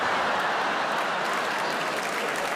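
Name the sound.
audience applause at comedy show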